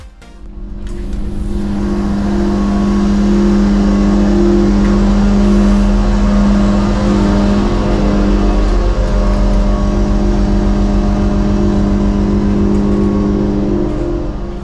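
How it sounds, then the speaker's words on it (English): A loud, steady train engine drone with low humming tones, heard inside the middle car, rising quickly at the start and then holding constant with no talking. "we are also going to listen to the sound in the middle car with the engine"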